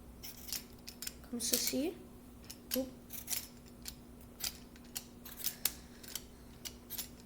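Potatoes are cut into a bowl in a home kitchen, making a series of crisp, close, sharp cuts and taps at an irregular rhythm. A voice briefly speaks between the cuts.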